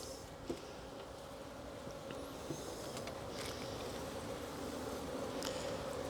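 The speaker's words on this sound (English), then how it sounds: "Bees are usually a little bit agitated because they have been in the car for quite a while." Faint, steady buzzing of many honey bees in a nuc hums continuously at a low level, with a few soft clicks and ticks now and then.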